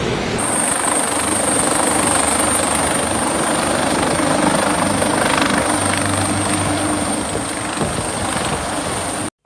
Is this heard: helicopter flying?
yes